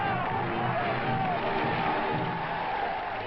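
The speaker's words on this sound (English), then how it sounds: "De Gaulle, shouted the crowds." A large political crowd in Algeria shouts for de Gaulle, a dense, continuous roar of voices and cheering with no gaps, sounding muffled and narrow like an old archival recording.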